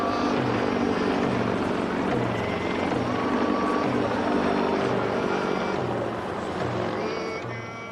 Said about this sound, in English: giant American helicopters circled above us, intimidating as always